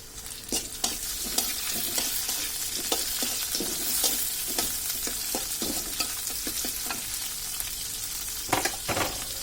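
Chopped capsicum stir-frying in a pan, a loud continuous sizzle with rapid, uneven spatula scrapes and taps throughout.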